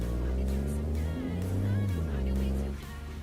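Low, steady rumble of a truck engine in a truck-driving video game, droning at a constant pitch with slight shifts, loud and close throughout before easing near the end.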